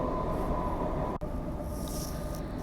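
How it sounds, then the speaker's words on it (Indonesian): Steady low rumble of a moving train heard from inside the carriage, a constant dense drone with a brief dip midway and faint higher hiss above, no voices. "ini gue juga masih di dalam kereta, masih perjalanan ke tempat yang di sana"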